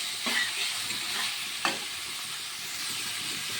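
Fish and boiled potatoes fry together in a hot pan with oil, a continuous close sizzle broken by a couple of scraping stirs, no voices.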